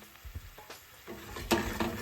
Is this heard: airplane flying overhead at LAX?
no